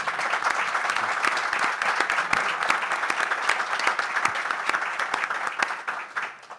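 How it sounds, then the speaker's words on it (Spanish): An audience applauds an introduced guest, a former Atlético de Tetuán player and Sociedad Deportiva Ceuta coach, with sustained crowd clapping of many sharp hand claps, steady and fairly close, tapering slightly at the end. "tengo al señor Jaco Zafrani, al que pido ya un aplauso."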